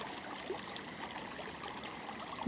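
Irrigation water flows through a field channel at night, a soft, steady trickling stream heard alone with no voices.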